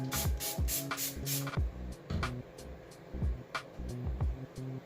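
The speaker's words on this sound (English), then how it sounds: "you spray water on it and then like, wow, it's floofy" A spray bottle mists water onto a 4c braided protective hairstyle, giving a run of short, close hissing squirts in quick irregular succession, several bursts back to back with brief gaps between them.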